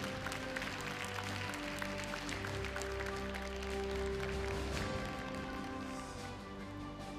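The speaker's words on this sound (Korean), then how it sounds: "김도겸 울산시장에게 다시 한번 큰 박수 부탁드리겠습니다" A forum audience at the 2022 Korean regional forum on the new Busan-Ulsan-Gyeongnam region claps for Ulsan mayor Kim Doo-gyeom, a steady spread of clapping blended with sustained musical tones.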